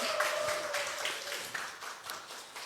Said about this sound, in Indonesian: Baik yang ada di studio boleh tepuk tangan ya.